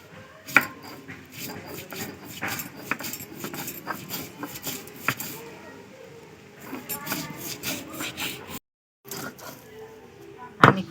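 Black mustard seeds are ground on a grinding stone, giving repeated rough rubbing and scraping strokes at close range, uneven in rhythm with a short pause near the end.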